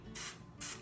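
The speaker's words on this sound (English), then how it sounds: "I picked up a Twisted Peppermint room spray, and I'm actually gonna spray this right now" A Twisted Peppermint room spray is pumped twice, giving two short, close hissing bursts of mist with a brief pause between them.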